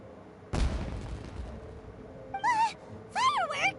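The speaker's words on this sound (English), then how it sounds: "It sounded like fireworks." A single firework bursts with a loud boom in Genshin Impact, followed by a long decaying rumble. Whistling, warbling tones come in afterward.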